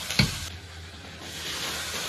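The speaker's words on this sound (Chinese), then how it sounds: "放入花椒、大料、葱姜、蒜，爆个锅呢" Sichuan peppercorns, star anise, scallion, ginger and garlic hitting hot oil in a wok, opening with a sharp clack and then a steady, close sizzle and hiss that carries on without any voices.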